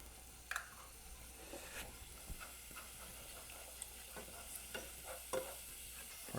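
Basil, thyme, oregano, salt and pepper get stirred into a simmering pot of pasta e fagioli, with soft scraping spoon strokes and light knocks over a quiet sizzling bubble.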